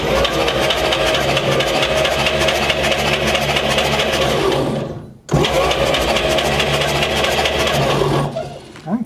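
A 1940 Chevy Dubl Duti truck engine cranks and catches, then runs at a loud, steady idle, with a brief dip midway before it keeps running.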